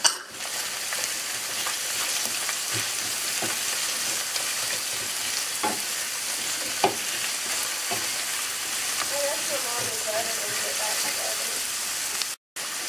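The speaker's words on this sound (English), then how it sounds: "I'm gonna let this saute for about 2 to 3 minutes" Ginger and garlic sautéing in a hot pan, a continuous loud sizzle and crackle throughout with occasional spatters and stirring knocks.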